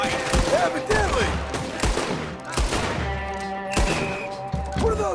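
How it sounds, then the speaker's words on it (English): Gunfire in Red Dead Redemption 2, with loud sharp shots in irregular bursts over musical tones and brief thuds. "What are those guns?"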